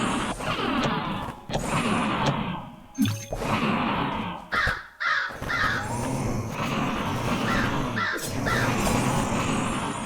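Repeated loud caws from summoned crows in the video game Ghostlore, in rhythmic groups of two or three, over a dense bed of game combat noise.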